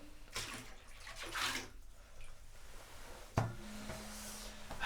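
Yellow dock decoction poured into bath water, a few gushing splashes in separate bursts followed by a sharper splash, heard close and alone without talking.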